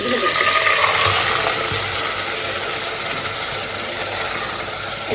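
Ground masala paste spluttering and sizzling steadily in hot oil, a loud continuous crackle with bay leaf and star anise in the pan, for a home-cooked biryani.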